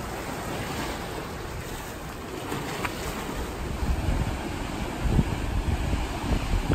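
Pacific Ocean waves wash steadily against the rocky shore below the sea cliffs at Sunset Cliffs in San Diego, a continuous broad roar of surf with a few louder surges, with wind buffeting the microphone.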